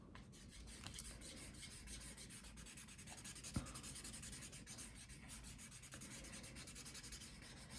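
A graphite pencil sketches quickly on paper, a close, quiet, continuous rubbing and scratching of back-and-forth strokes with a small tap partway through, no voices.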